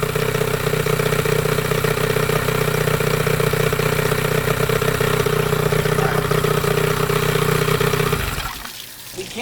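A 1998 Johnson 15hp outboard motor runs loud and close with a steady buzzing, clattering drone, then the sound drops off sharply near the end.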